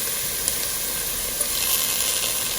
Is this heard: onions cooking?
yes